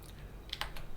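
A computer keyboard is typed on, with a few soft, quick key clicks in a short burst at close range and no talk.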